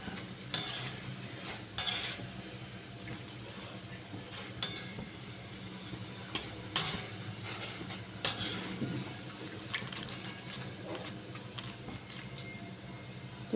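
Boondi for motichoor laddu frying in ghee, with a faint steady sizzle under sharp metallic clinks and scrapes of a ladle against the pan at irregular intervals.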